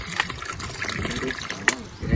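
Water pours into a cooking pot while thokku biryani is being made, a close, steady liquid trickle and splash with people talking quietly over it.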